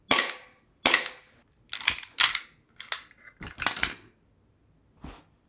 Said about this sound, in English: After shooting your gas blowback pistol more than once.